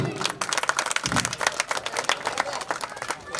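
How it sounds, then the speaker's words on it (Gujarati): An audience at a temple consecration festival claps in a dense, uneven burst of many hands, fairly close and lively, with some voices mixed in. "તાળીઓ વગાડો યાર"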